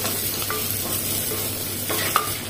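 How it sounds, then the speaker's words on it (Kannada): Chopped onion fries in hot oil, giving a steady, soft sizzle with a few light scrapes from stirring, close and even throughout, with no talking. "ಸೇರಿಸಿ ಒಂದು ಸ್ವಲ್ಪ ಕಲರ್ ಚೇಂಜ್ ಆಗೋ ತನಕ ಹುರ್ಕೊಂಡ್ರೆ ಆಯಿತು"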